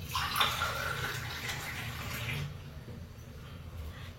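Water pours steadily into a glass tumbler, a soft, continuous splashing hiss that trails off partway through, heard fairly close in a quiet room.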